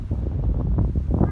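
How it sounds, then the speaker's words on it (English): Loud, low wind buffeting the microphone, a continuous rumbling roar with gusty fluctuations and no talking. "It is so windy."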